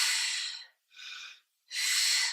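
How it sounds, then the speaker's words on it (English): Three slow breaths during a Pilates stretch, drawn in and pushed out in a steady rhythm, close and fairly soft, with no talking. "Breathing."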